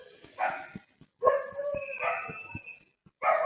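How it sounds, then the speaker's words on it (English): Dog barking in bursts, several clipped barks and yelps with whimpering tones, heard close and loud, in the background of an online class with students. "I am hearing a lot of dog noise"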